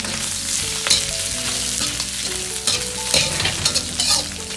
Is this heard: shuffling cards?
no